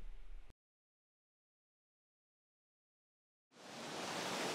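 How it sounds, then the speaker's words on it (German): A powerful waterfall rushes in a loud, steady hiss and roar that starts abruptly after a short burst of noise and a few seconds of silence, then holds strong to the end. "Wir sind an einem brutalen Wasserfall"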